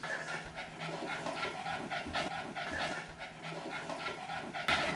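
A dog panting in quick, steady breaths, close and fairly loud, with a continuous rhythmic huffing throughout and no voices present.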